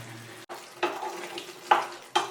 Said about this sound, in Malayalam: എല്ലാം കൂടെ ഒന്ന് ഇളക്കി യോജിപ്പിച്ചെടുക്കാം